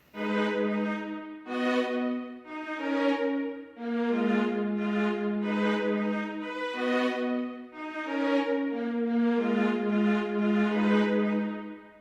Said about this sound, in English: this violin, a long violin from BBC Symphony Orchestra